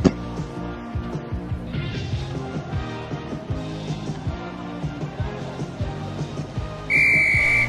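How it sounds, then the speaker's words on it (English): Near the end, a sharp, loud referee whistle blast signals one minute before a basketball game starts, cutting through busy crowd and court noise with bouncing thuds. "There's the whistle meaning one minute before the game starts."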